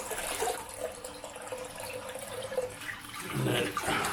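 A bathroom tap runs for a warm rinse after a wet shave, a soft, steady splash of water into the sink heard close and fairly quiet, swelling a little near the end.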